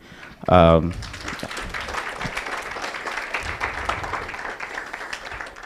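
An audience at an AI town hall event applauds after a brief voice at the start: steady, moderately distant clapping from a room full of people that carries on to the end.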